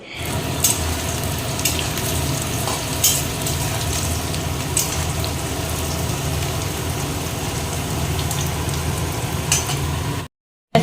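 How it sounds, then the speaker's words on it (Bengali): A pot of rice boils, bubbling and hissing steadily up close, a dense simmering roar with occasional faint clinks, ending abruptly. "এখানে ভাত ফুটছে পাঁচ মিনিটে হয়ে যাবে ভাত"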